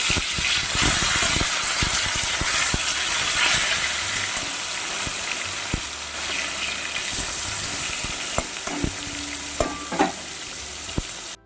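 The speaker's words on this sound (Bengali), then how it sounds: "এক পিঠ ভাজা হয়ে গেছে, এইভাবে লাল লাল করে উল্টে পাল্টে আমি ভেজে নেব।" Katla fish pieces fry in hot oil, a continuous loud sizzle and hiss broken by scraping clicks and knocks as the pieces are stirred and turned in the pan.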